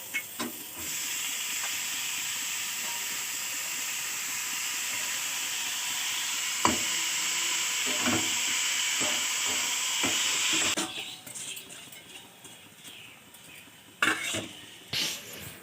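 Greens with turmeric sizzle in a pan, a loud steady hiss of steam and frying that cuts off near the end, followed by a few sharp clinks and knocks of utensils.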